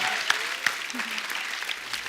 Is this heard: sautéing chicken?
no